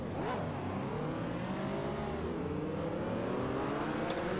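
A Ferrari GTO engine revs steadily at Mugello in a racing video game, a continuous loud drone with rising and shifting pitch throughout, alone with no talk.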